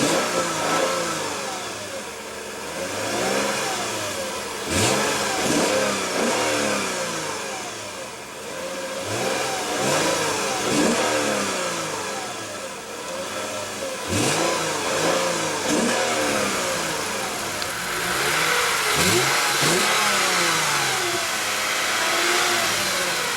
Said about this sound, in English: Love the sound of that V6 powertrain.